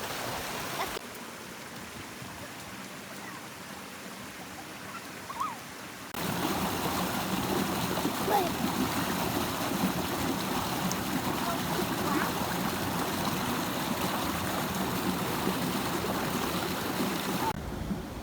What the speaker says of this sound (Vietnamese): Mình rất thích cái suối này chảy từ trên bảng mình xuống